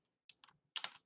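An SSH command is typed on a computer keyboard: a quick run of about four or five crisp, close keystrokes, the last few bunched together, in a quiet room.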